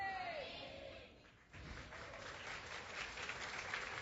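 A church congregation applauds, a faint steady patter of many clapping hands that swells after a brief lull, heard from a distance with no clear speech.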